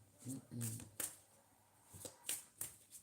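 Tarot cards are shuffled by hand in a series of short, crisp riffling and tapping bursts, close and fairly quiet, with pauses between them.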